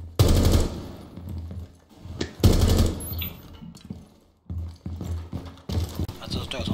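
Bursts of machine-gun fire in the tactical shooter Rainbow Six Siege, two loud rattling volleys near the start and middle with quieter shots and game noise between, under someone talking.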